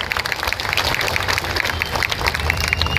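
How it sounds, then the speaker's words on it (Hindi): A crowd at a Shiv Sena party gathering in Mumbai clapping loudly and continuously, dense rapid applause filling the space throughout. "इनके लिए भी जोरदार तालियां बजाएं।"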